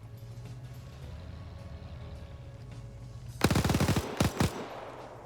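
An MG42 machine gun fires in a World War II multiplayer shooter, one loud rapid burst followed by two shorter bursts. Engine rumble drones in the background beforehand.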